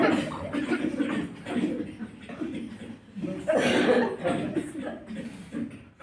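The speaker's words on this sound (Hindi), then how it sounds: "खांस के सांस बाहर निकालना है।" A person doing a pranayama breathing exercise forcefully coughs breath out in a few harsh, breathy bursts, with the strongest near the middle, close and moderately loud.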